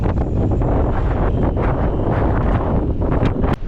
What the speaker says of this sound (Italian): c'è sempre questo vento fortissimo, il mare è sempre molto agitato